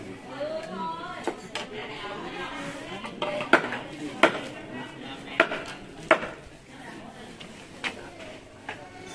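Chicken being chopped on a board at a Black Thai hair-bun ceremony, sharp irregular cleaver strikes with clinking dishes under ongoing talk.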